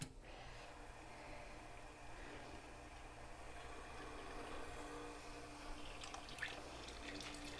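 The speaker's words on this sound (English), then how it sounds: "All right, my water is running." A pump pushes water through a wort chiller while homebrewing a pale ale, giving a steady, fairly quiet rush of flowing water with a low motor hum underneath, continuous throughout.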